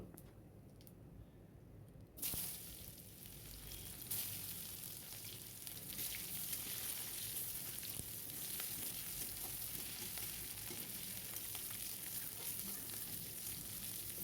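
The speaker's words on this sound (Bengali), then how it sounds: "তেলটাতে আমি একটা তেজপাতা আর একটু জিরে ফোড়ন দিয়ে দিলাম এবার কাঁচা পেঁয়াজ কুচি দিয়ে দেবো" Chopped raw onion hits hot oil already seasoned with a bay leaf and cumin, setting off a sudden loud sizzle about two seconds in that then crackles and hisses steadily up close, with occasional stirring scrapes and no talking.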